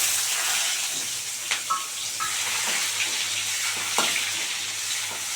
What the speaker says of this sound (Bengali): তেজপাতা ফোড়নে দিয়ে দিলাম দিয়ে এবারে পেঁয়াজটা ফোড়না দিয়ে দিচ্ছি